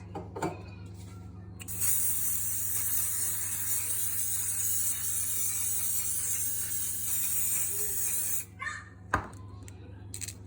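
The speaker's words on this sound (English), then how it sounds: "I'm going to spray them with some vegetable oil spray" A continuous close hiss of a vegetable oil cooking spray can runs for about six seconds, then stops, followed by a couple of light knocks.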